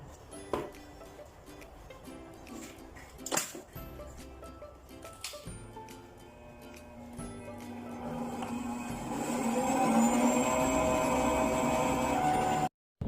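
An electric mixer with a paddle beats butter and sugar for a tart shell, starting with a few knocks and clatters before a steady motor whir builds louder and fuller.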